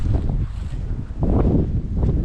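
Gusty wind buffeting a microphone at an exposed campsite, a close rumbling roar that swells and eases in uneven bursts.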